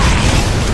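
A grenade blows up in a team shooter game during a USA vs UK tournament match, a single loud, close, booming blast that fills the whole short moment.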